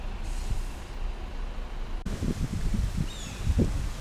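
A sharp hiss of a bus air brake cuts in after a low engine rumble at a quiet Norwegian fjord, followed by rumbling and a few faint bird chirps in the background.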